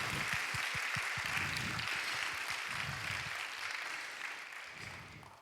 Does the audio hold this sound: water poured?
no